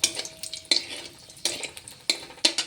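Dried red chillies fry in oil for a vegetarian spinach dish, a quiet sizzle punctuated by four or five clear spatula strikes and scrapes against the pan.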